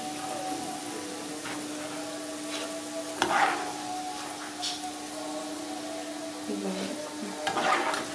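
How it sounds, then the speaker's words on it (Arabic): Almonds frying in oil in a pan, a steady faint sizzle with a low hum underneath and a few brief louder stirring or clinking sounds. "صافي اللوز هو راه تحمر كيف كتشوفوا"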